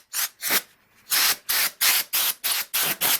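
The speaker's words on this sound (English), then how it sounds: "if you have that compressed air" Compressed air blown in short bursts over a varnished surface during finishing work, eight or so sharp loud hissing blasts in quick rhythm with a gap near the start.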